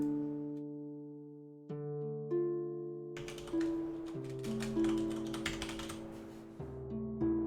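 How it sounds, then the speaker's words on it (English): Computer keyboard typing, a quiet scatter of key taps coming in short bursts beneath steady background music, with no talking. "Lots of keyboard noises."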